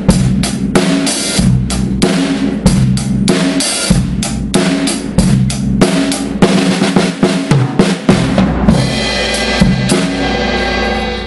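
Full rock drum kit groove played steadily for three bars, kick, snare and cymbals driving a loud, even beat, followed by a busier bar of drum fills rolling around the kit before the pattern settles.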